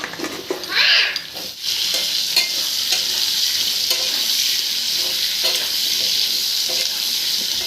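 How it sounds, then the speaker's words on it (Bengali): Potatoes tipped into hot oil in a pan with onions already fried red, giving a loud, steady sizzle after a brief burst as they hit the oil, continuing alone close up. "এবার এর ভিতরে আলুগুলো দিয়ে দেবো।"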